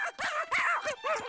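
A cartoon dog in a Chilly Willy episode barks three times in quick succession, close and bright, with short gaps between the yappy barks.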